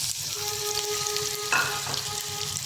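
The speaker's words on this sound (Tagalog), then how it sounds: "Mainit na yung mantika natin. Prito na natin yung" Potatoes sizzle and crackle steadily in hot oil, with a few brief clinks and stirring scrapes partway through.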